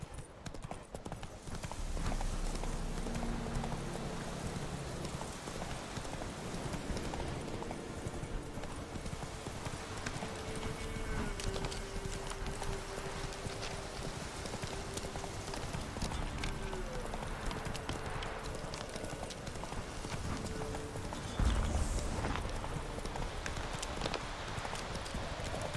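A horse gallops in the video game The Witcher 3, its hoofbeats clip-clopping steadily and continuously for about 25 seconds over game ambience.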